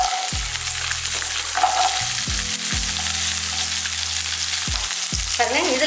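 Small shallots fry in hot oil for an egg curry, a steady dense sizzle with repeated sharp clunks of a spoon against the pan and brief stirring scrapes, loud and close with no talking.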